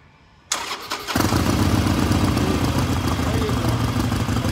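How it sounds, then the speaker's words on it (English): A 2016 Harley-Davidson Sportster Custom Roadster with a rubber-mounted engine cranks and fires up, then settles into a loud, steady, close-up idle with a deep, rumbling lope. "A rubber mounted motor. That sounds better than a Stradivarius."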